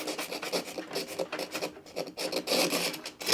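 A dull kitchen knife drawn through a Chef's Choice pull-through sharpener about an inch at a time, giving close, repeated gritty rasping strokes in an uneven rhythm, alone without speech.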